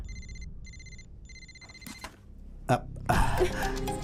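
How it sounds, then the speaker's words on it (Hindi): A telephone rings in repeated double bursts with pauses, then stops unanswered; a few knocks and shuffling noises follow, with a louder rustling burst at the end. "फोन भी नहीं उठा रहे हैं।"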